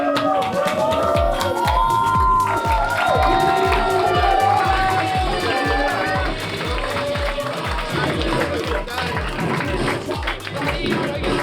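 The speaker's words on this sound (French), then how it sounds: "Un applaudissement à tous, s'il vous plaît." An audience at a mixology competition night claps in a steady, rhythmic beat and cheers for the winners. The crowd noise is dense and sustained throughout.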